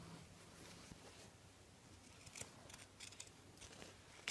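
Pointed zigzag scissors snip through fabric for a crocheted bag, giving a few faint, close, crisp cuts with light handling rustle and no talking.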